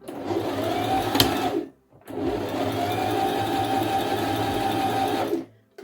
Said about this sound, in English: I'm just going to sew down that edge